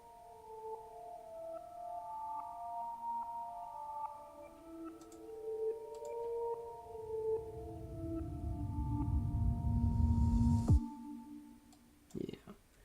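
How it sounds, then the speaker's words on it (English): A bell sample recorded into Edison and played in reverse for a dubstep track gives layered tones that swell and thicken into a loud rush, cut off abruptly near the end, followed by a brief hit. "So I took this bell sound, I recorded it into Edison, and then I reversed it and then put it at the beginning"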